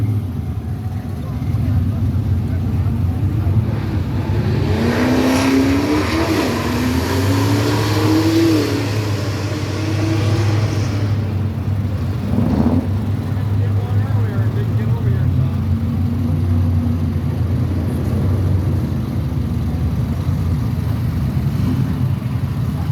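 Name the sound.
muscle car engine revving as it leaves a car show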